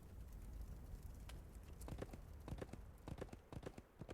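Horse hooves clip-clop in the Wild West Dynasty video game, a steady run of sharp hoof strikes building from about two seconds onward over a low ambient background.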